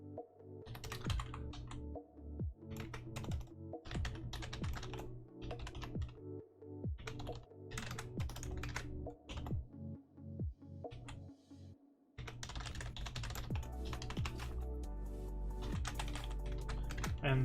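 Rapid typing on a computer keyboard in bursts of clicky keystrokes with short pauses between runs, close and prominent with a steady hum underneath and no talk.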